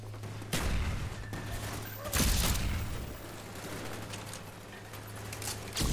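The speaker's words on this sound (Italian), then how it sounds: "Siamo su Nuketown e sto usando l'MP5K silenziato." Suppressed MP5K submachine gun fire in Call of Duty Black Ops on the Nuketown map, with bursts of muffled shots and explosions over a constant game hum, loud and close throughout the six seconds.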